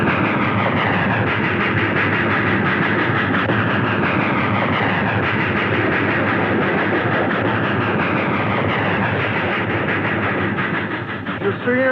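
A train rolls past close by in a steady, loud, continuous roar with rhythmic clatter from the wheels, holding at full strength throughout, with voices faintly in the background.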